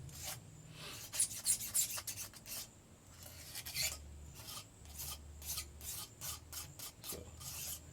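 A blade scraping old gasket material off the deck of an LS engine block, a series of quiet, rasping strokes in uneven bursts, close and alone.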